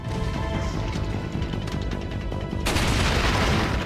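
In Resident Evil 4, explosive barrels blow up in a loud burst of blasts and crashing debris. A second heavy explosion surges in near the end amid the continuous din of combat.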